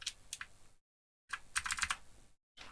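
Bursts of quick typing on an RGB mechanical keyboard, crisp clacking keystrokes close up, split by two short silent pauses, with no voices.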